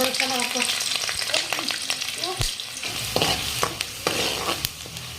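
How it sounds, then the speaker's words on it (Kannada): Finely chopped garlic, ginger and green chilies fry in a pan for restaurant-style veg noodles, with bright crackling oil and the scrape and clatter of a spatula stirring close by. "ಈಗ ನೋಡ್ರಿ ಇದನ್ನ ಒಂದ್ ಸ್ವಲ್ಪ ಈ ತರ ಫ್ರೈ ಮಾಡ್ಕೊಳ್ಳೋಣ್ರಿ"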